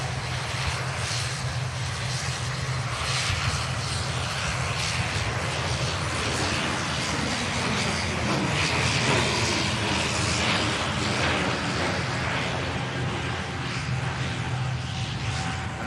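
An airliner rotating on takeoff at Manchester Airport, its engines a loud, steady broadband roar that holds throughout without a break.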